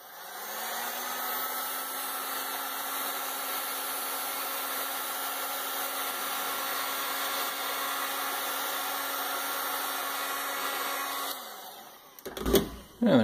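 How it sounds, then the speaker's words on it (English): A heat gun blowing hot air onto heat-shrink tubing over a bundle of box mod wires, a steady close whooshing hum that holds evenly for about eleven seconds, then winds down and ends with a few handling clunks. "And you can hit it with a heat gun."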